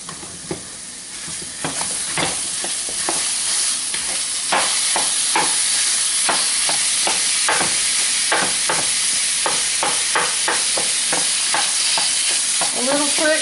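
Ground lamb or beef sizzles loudly in a frying pan while being stirred and broken up with a small splash of water, a constant hiss of frying punctuated by repeated scraping and tapping of the utensil.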